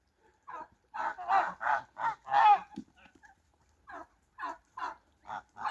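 Geese honk repeatedly nearby, a cluster of loud calls followed by a pause and then more scattered honks.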